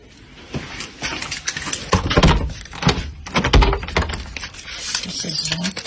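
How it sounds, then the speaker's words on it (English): A loud knock on a door: several sharp, hard thumps in an uneven cluster over a noisy background, fairly close. "That door is pretty loud, so it's possible. We're gonna say it's the real knock"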